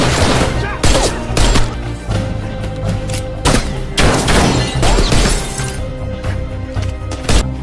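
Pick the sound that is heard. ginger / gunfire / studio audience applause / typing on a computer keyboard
gunfire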